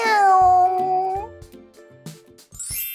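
A cat gives one long, drawn-out meow that slides downward, loud and close. A few soft, low thumps follow, and then a brief high jingle.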